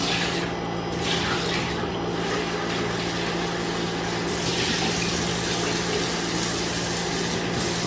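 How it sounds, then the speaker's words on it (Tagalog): Water poured out of a pot that held lobster, a steady broadband gush lasting several seconds with a low constant hum beneath, fairly loud and close, no voices. "tatapon ko na yung tubig niya"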